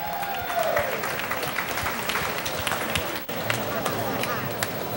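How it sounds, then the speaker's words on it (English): Audience at a Louisiana seafood culinary event breaking into sustained applause, a dense steady wash of many hands clapping with voices and cheers mixed in throughout. "Let's have a big round of applause"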